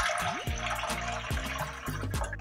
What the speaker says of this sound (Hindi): पहले इसमें दो गिलास पानी डालना है